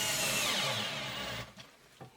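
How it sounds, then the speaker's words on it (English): A power drill drives a screw into a toggle bolt on a pegboard, a loud, close whirring grind that strains and then cuts off, followed by a couple of quiet clicks, no one speaking. "that was the sound of it tightening that thing"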